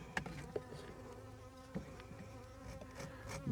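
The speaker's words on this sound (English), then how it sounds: "We got bees trying to get you, don't we?" Bees buzz in a steady hum, with louder passes as individual insects fly close, and a few faint knocks.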